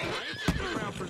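A horse in Red Dead Redemption 2 lets out a short, loud whinny at mid-clip, rising above a busy game soundscape with a faint voice in the background.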